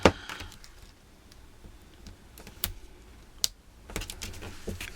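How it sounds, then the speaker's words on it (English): Paper for Stampin' Up mini notes is cut along a score line next to the tabs, giving scattered short snips and crisp clicks, quiet and close, with pauses between cuts and no talk. "I'm just going to go ahead and cut."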